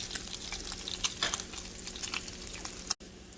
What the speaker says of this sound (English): As you can see, the bacon's getting crispy.